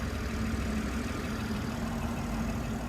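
A 2023 BMW X6 xDrive40i M Sport's 3-liter twin-scroll turbocharged inline-six idles steadily with a smooth, even low hum and a faint hiss, heard close up under the open hood, with no voices.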